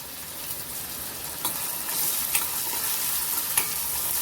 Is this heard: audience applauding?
no